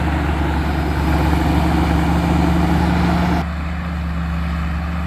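A TAMCO combine harvester's 260 hp engine drones in a loud, steady low rumble while it harvests lodged rice through a 2.8-metre header, dipping slightly in brightness near the end.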